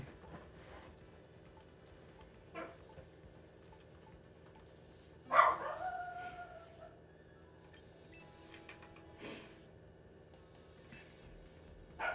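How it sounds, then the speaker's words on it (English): A dog barks in the distance, a few isolated, fairly faint barks spread out over a quiet background, with one sharper bark standing out. "tell him to make his dog go stop barking"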